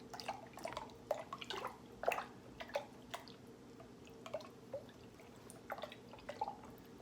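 Sweetener is poured into a Jamaican rum punch, heard as a faint, close series of drips and small splashes landing in liquid at an uneven rhythm.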